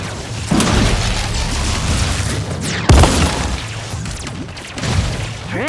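Grenade blasts and battlefield booms in the strategy video game Iron Marines, loud thuds at roughly half-second, three-second and five-second marks over a continuous rumble of gunfire and combat noise.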